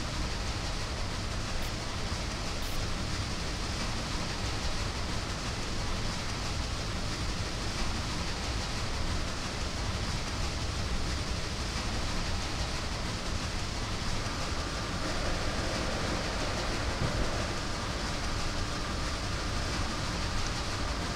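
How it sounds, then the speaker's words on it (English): A steam locomotive in Train Simulator 2017 on an American Freedom Train special run roars continuously, a steady loud broadband rush of chuffing and rolling noise throughout, with no talk. "The steam train's gonna be a bit loud, so if my voice is drowned out by the sound of the locomotive"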